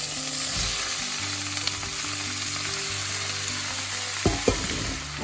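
Chard tossed and stirred through a hot pan in a cumin-spiced dish, a steady close sizzle and crackle with low hum throughout, then two sharper clatters of utensil against pan near the end.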